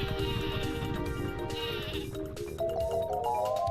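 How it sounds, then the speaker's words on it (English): Sleepy sheep item from the Paper Mario video game bleating in a steady, wavering cry over busy game music and effects, with no talking. "let's use the sleepy sheep"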